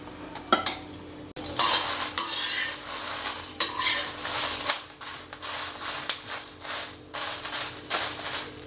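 Dried red chillies are stirred and fried in a little oil in a pan, a close, uneven series of metal spoon scrapes and clinks against the pan over a faint sizzle, with no talking.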